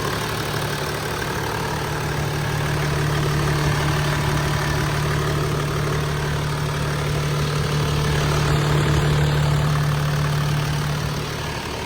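A Toyota Land Cruiser VX 80's engine idles close by with a steady low droning hum and even mechanical rumble, unbroken for the whole stretch.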